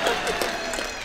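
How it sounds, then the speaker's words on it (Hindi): Brief burst of audience applause at a comedy stage show, with a voice speaking over the clapping. "ये इतनी तालियां पता है क्यों बज रही हैं?"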